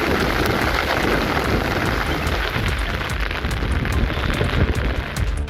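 Heavy rain pours down steadily through the night in a coastal Tamil Nadu town, a dense, loud, unbroken roar of falling water with no voices.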